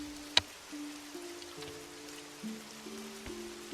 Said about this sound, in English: Another night of rain.